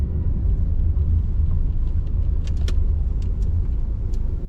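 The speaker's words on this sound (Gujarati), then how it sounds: "હા, તો બસ નીકળી ગયા છીએ ગાડીની અંદર" A car heading to Gandhinagar railway station drives on the road, heard from inside as a loud, constant low rumble of engine and road noise, with a few faint rattles and clinks.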